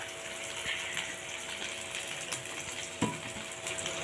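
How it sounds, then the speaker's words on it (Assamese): Onions fry in a pan until browning, a steady moderate sizzle with occasional stirring clinks and one sharper knock toward the end. "পিঁয়াজখিনি ব্ৰাউন হোৱালৈকে ভাজি আছে।"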